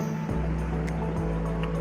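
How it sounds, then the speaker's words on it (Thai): Strong current of the Nan River in Phitsanulok, Thailand, flowing in a steady, loud rushing wash with a low rumble throughout. "ตรงนี้จะเป็นแม่น้ำน่านครับ ส่วนด้านหลัง สะพานอะไรผมก็ไม่รู้เหมือนกันครับ แต่ว่าดูน้ำไหลแรงมาก"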